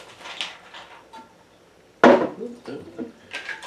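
A lid put onto a jar of caramel apple moonshine, a single sharp clatter of lid on glass standing out after quiet room sound, with small handling knocks following, close and brief.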